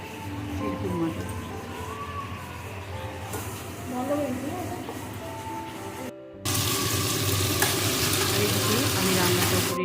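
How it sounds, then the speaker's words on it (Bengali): Medium-size vermicelli khurma being stirred in a hot pot for Eid, with soft sizzling and scraping under a background voice, then a sudden louder, steady hiss after a brief gap. "গরম হয়ে গেছে বলে ও একটু তুলে নিয়ে হালকা করে নেড়ে নিচ্ছে"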